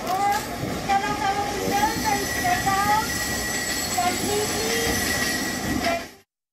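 A Mumbai local train running between Borivali and Andheri: a loud, continuous rumble of carriages with squealing wheels and faint voices on board. The noise then cuts off abruptly.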